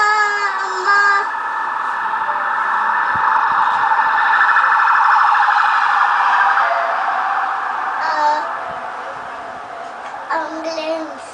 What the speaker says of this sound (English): It wasn't an ambulance. It was a police car.